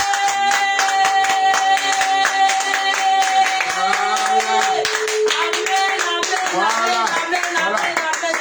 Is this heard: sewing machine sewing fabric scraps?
no